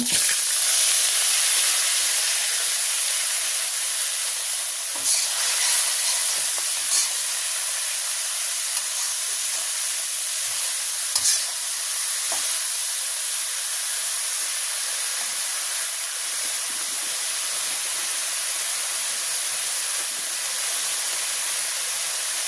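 Whole cumin seeds sizzle steadily in hot oil in a village kitchen, a continuous close hiss and crackle that holds through the clip with a few brief louder pops.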